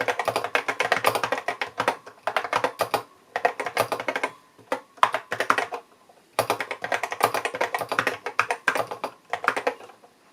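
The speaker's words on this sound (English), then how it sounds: "see what it sounds like when you type on this thing" Rapid clicky keystrokes on a Macintosh Plus keyboard, typed in bursts with short pauses between phrases, close and crisp with no talking.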